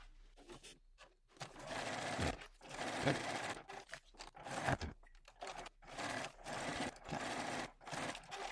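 A sewing machine stitches the side seams of a bag lining, with several bursts of rapid, close motor-driven stitching separated by short pauses.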